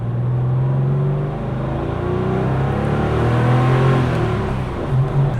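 Air-cooled 3.6-litre Porsche 911 of the 993 generation, a 270 hp two-door coupe, with its engine droning and revving steadily, loud and close, the pitch rising and falling slightly throughout.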